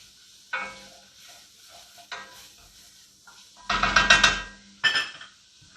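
Food frying in oil and butter for chili, with scattered stirring and scraping sounds in the pan and a louder burst of sizzling and clattering midway.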